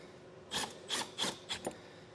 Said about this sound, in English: as you drive this screw in, because we're drilling a hole into the roof